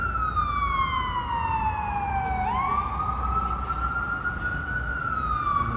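An ambulance siren wails along a New York City street at night, a loud, sustained sweeping tone that dips and rises again over low traffic rumble.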